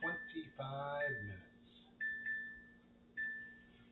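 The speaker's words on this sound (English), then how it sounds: "So let's set the timer for, we'll do 25 minutes." A kitchen timer is set for 25 minutes while baking a cherry vanilla pie, giving a few short, thin button beeps spaced apart after a brief stretch of talking at the start.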